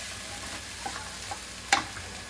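Cabbage frying in a pan gives a steady close sizzle, broken by a few soft stirring scrapes and one sharp spoon knock against the pan, with no voices.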